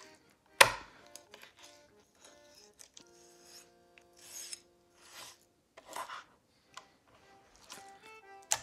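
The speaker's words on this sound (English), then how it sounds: "we're gonna take the ribs off" A knife slices the ribs off a sea bream (porgy) fillet, producing close, quiet rasping scrapes and short cutting strokes in irregular bursts, with one sharp knock near the start.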